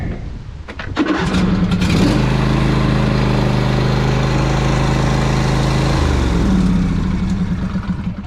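A choked motorcycle troubled by bad gas cranks and catches almost at once, then settles into a loud, steady idle with a brief rev near the end.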